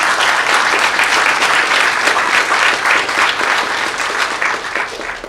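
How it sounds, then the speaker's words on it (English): Audience applause at a hacker conference talk, a dense, steady clapping ovation from a crowd filling the room, loud throughout and tapering slightly toward the end. "thanks a lot for that little clapping ovation"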